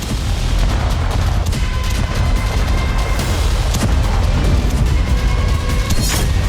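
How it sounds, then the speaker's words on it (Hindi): Israeli air force bombing in Beit Hanoun, with loud continuous rumbling blasts and heavy booms layered over one another, dense and harsh throughout, with sharper cracks near the end. "बेत हनून में इजरायली एयरफोर्स ने हमास के अंडरग्राउंड टनल पर जबरदस्त बमबारी की।"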